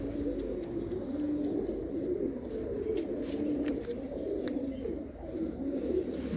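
Pigeons kept by hobbyists in Punjab coo steadily in a low, soft, continuous murmur, with faint chirps and ticks above, no voices.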